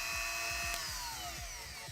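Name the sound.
drill running slowly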